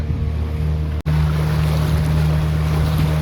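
A boat motor drones steadily with wind and water rush in Goa, a brief dropout early, then the loud engine hum continues.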